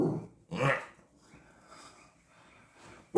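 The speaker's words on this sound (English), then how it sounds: "We got our little dog with us on vacation this time." A small dog growls and gives a short bark up close, with breathy rumbling between bursts and a sudden sound at the very end.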